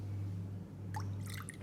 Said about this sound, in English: And then I'm going to go 25 mils soy sauce.